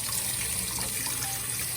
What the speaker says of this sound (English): I'm going to try and wash it down and make it look a little bit better